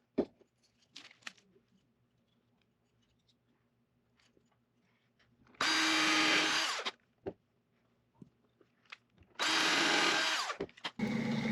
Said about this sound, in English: now drill through it from both sides